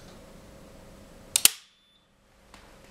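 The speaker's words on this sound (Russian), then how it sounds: "Включаю еще раз автомат." A pair of quick, sharp snaps from an RMM47 automatic circuit breaker as it switches on and trips on its electromagnetic release, loud and close, followed by near silence and a faint click.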